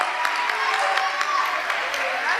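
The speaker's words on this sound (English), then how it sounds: "Applause, a huge applause." Applause from an audience at a live superhero-themed stage show, brisk clapping heard alongside bright crowd noise at a fairly steady level, with no voices standing out.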